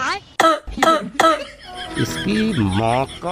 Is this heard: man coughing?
yes